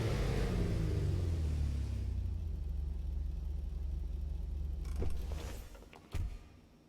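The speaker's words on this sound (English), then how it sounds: "we have a Lexus RCF, one of my favorite sounding cars in the game." Lexus RC F, the Emperor Vector in GTA 5, rumbles with a loud, steady low engine drone that eases off gradually, then gives two short revving bursts near the end, with no voices.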